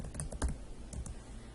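Close keys clack in a quick, uneven flurry on a computer keyboard while text is entered into an Excel spreadsheet, with no talking.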